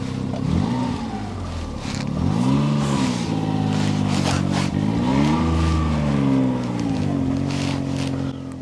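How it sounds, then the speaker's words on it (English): A JDM car engine revs hard at a car meet, loud and close, its pitch climbing and falling in repeated sustained sweeps with no break. "Oh, that engine sound, Ed. Fantastic."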